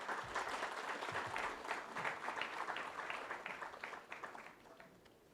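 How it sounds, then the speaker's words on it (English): Audience applause at a panel discussion, a dense burst of clapping that starts full and gradually thins out and fades over several seconds. "if you could just give him a round of applause"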